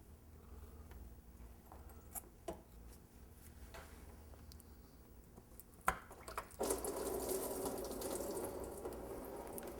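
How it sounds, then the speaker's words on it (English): Faint clicks and taps as a car's water pump is pried loose give way to coolant pouring and splashing steadily near the end, with a soft background hum. "Now we just go ahead and pry the water pump loose."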